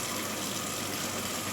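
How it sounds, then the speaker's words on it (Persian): Running water pours steadily over fresh herbs in a colander, picked from the garden for Tabriz-style ash reshteh, a continuous close gushing wash with no talk. "میخوام سبزی ها رو آبکش کنم"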